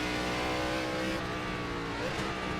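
Race car engine in the iRacing sim driving hard, steady loud engine drone with a brief pitch drop and shift partway through, no talk over it.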